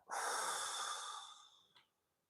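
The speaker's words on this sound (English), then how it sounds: "Breathe out." A long, breathy exhale during a seated exercise for seniors, strong at first and fading slowly over about a second and a half, ending with a small sniff, close and alone.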